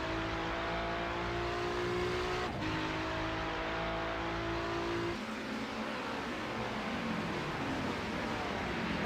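GT3 race car at Sebring with its rear stepping out on the curb, engine note droning steadily with a pitch shift midway as the car loads up and slides, loud and close throughout.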